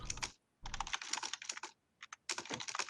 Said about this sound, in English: What are you typing there, buddy?